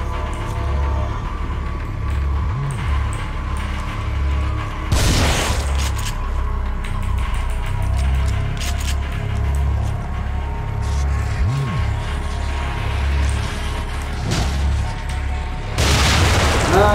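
Bomb explosions in The Evil Within: two heavy booms, one around five seconds in and another near the end, stand out over a constant low rumbling game ambience with faint mechanical clatter.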